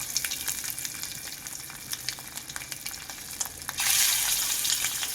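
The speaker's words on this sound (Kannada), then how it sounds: "ಈಗ ಇದಕ್ಕೆ ನಾನು ಮೊಟ್ಟೆನ ಹಾಕೋತಾ ಇದ್ದೀನಿ ಫ್ರೈ ಮಾಡೋದಕ್ಕೆ" An egg dropped into hot oil in a small pan sizzles and crackles steadily up close, with the frying rising suddenly to a louder, fuller hiss partway through.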